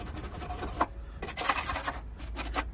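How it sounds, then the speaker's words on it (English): A hand sanding block rubs along the metal bodywork of a 1995 Rover Metro under restoration, giving rhythmic close rasping strokes with brief gaps between them. "Gentle rubs along the metal"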